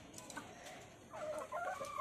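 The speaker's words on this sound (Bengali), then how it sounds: "সুরমা কালার মুরগি তো এখন দেখা যায় না দেশি" A surma-coloured native hen on a small farm gives a few soft, close clucks in the second half, faint against a quiet background.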